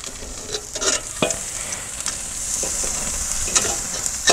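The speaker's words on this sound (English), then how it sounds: "All right, we're going to get this steak down." A wagyu tomahawk steak searing over a charcoal grill, giving a loud, continuous sizzle and hiss with a few crackling pops and brief scraping sounds, heard without talk.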